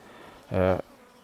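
A honeybee, drone or queen, buzzes loudly in a single close pass lasting under half a second at an evening hive entrance, against faint background hiss.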